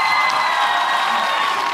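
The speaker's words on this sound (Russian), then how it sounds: "Еще раз аплодисменты блистательным Евгению Попанышвили," Studio audience at a televised dance competition final applauding and cheering loudly, a continuous roar of clapping, shouts and whoops.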